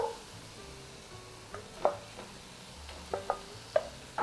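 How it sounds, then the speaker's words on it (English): Minced beef going into a pan, with a soft sizzle beneath repeated scraping stirs from a flat-based wooden spoon, the strokes landing in irregular clusters, close and fairly quiet. "And now I'll add in my minced beef."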